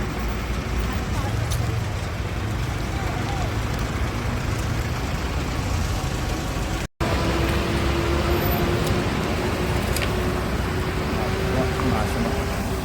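Jammed highway traffic near an accident site at Bhogapuram, close to the international airport, gives a continuous rumble of engines and road noise with a sustained engine drone, interrupted by a brief dropout midway.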